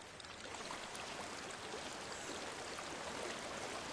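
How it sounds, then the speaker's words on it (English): A rushing waterfall in the game Hellblade: Senua's Sacrifice, a steady broadband roar of falling water that holds constant and fairly loud throughout, with no voices. "There's a waterfall."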